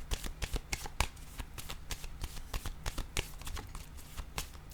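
Tarot cards being shuffled by hand, a rapid series of crisp riffling snaps and soft slaps repeating in quick bursts, close and clear with no talking.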